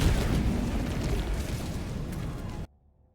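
A bomb stratagem explodes in the video game Helldivers 2, a loud, dense roaring blast that sustains for over two seconds and then cuts off abruptly into near silence.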